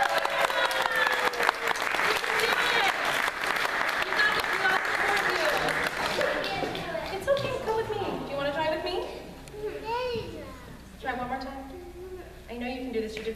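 An audience claps for Sarah, a nervous performer, with dense, steady applause for about six seconds. The clapping then thins out and fades as a voice starts talking over it.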